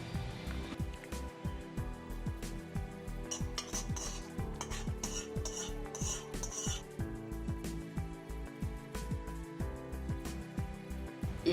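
Metal utensil scraping and clanking rhythmically against a wok while stir-frying durian with salt and MSG, repeated stirring and tossing strokes with a faint sizzle underneath.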